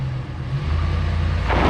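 A RAM 1500 Hemi pickup in two-wheel drive strains against a load of heavy logs, its engine a loud, low steady rumble close by that builds slightly over a brief stretch, with no talking.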